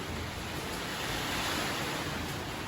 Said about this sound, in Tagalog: Malakas na po ng hangin.